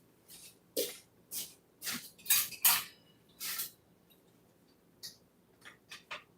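Kitchen clatter while noodles simmer: a plate and utensils clink and knock in a series of sharp, separate taps of varying strength, fairly close, with quiet pauses between.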